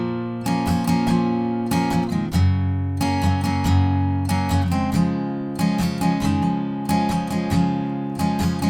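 Acoustic guitar playing the verse variation of a song, steady rhythmic strummed chords repeating in even bars, close and unaccompanied, no talking.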